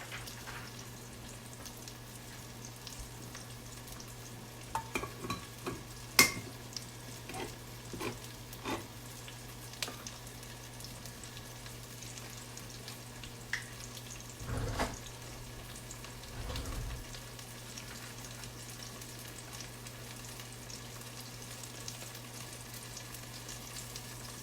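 Garlic fries quietly in a pan, a soft steady sizzle with a few scattered clicks and stirring knocks, faint and close, with no talking.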